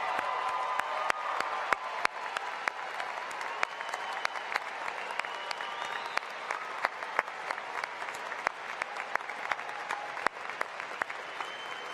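A commencement audience at a university College of Natural Sciences spring ceremony applauds honors graduates with sustained, dense clapping that holds steady throughout, with sharp individual claps standing out and no talking over it.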